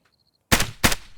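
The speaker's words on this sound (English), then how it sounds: "the poacher has killed the invasive species of animals with this M14 metal rifle" Two loud, sharp M14 rifle shots in the video game AR2, fired in quick succession after a near-silent pause, each with a short ringing tail.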